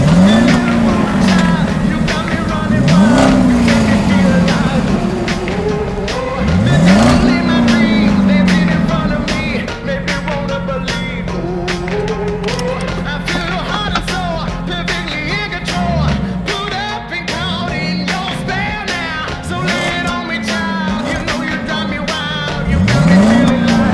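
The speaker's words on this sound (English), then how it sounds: "I got 2 V8 motors in this one," A custom-built car with two V8 engines mounted end for end idles with a deep rumble and revs up repeatedly in rising, swooping bursts, loud and close, with some clattering and faint talk underneath.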